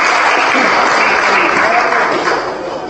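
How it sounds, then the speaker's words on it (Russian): Applause from an audience at a heated political debate in Comrat, a loud, dense burst of clapping from a packed hall that fades slightly toward the end. "Если уже сразу аплодируют, вы еще ничего не сказали."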